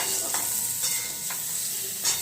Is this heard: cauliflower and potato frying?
yes